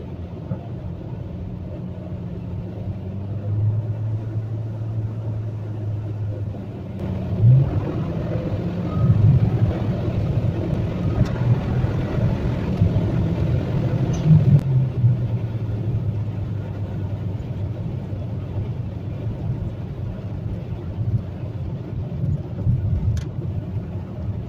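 A car engine runs steadily at a low, even rumble with its automatic transmission no longer shifting gears, the drone holding level throughout with brief mid-range swells partway through.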